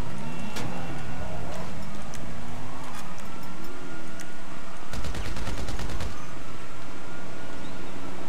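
Bursts of automatic gunfire crack out in the video game GTA V on PC, a rapid volley midway through a loud, dense mix of car engines and game noise.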